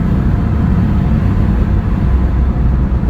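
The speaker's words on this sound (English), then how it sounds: "A little bit of a diff whine in it, I can hear." A Holden HQ Monaro with a typical 9-inch diff cruises on the road, its loud, steady low engine and road rumble filling the cabin, with a faint whine from the diff blended into the drone.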